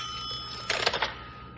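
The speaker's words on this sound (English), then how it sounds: "Phone's ringing" Old-fashioned telephone bell ringing in a brief burst of rapid metallic strikes, moderately close, after a faint electrical hum.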